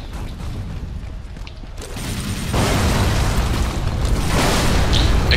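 A loud explosion in the video game Lara Croft and the Guardian of Light swells into a sustained rumbling roar, with debris seeming to fall and crash in a dense, continuous wash of noise.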